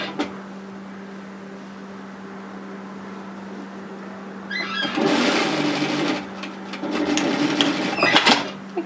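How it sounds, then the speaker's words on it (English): An overlocker runs over the raw edge of a sleeve seam, starting after a quiet hum with a loud buzzing burst, a brief pause, then another stitching run close by. "overlock tidy that raw edge and do the same thing on the other sleeve"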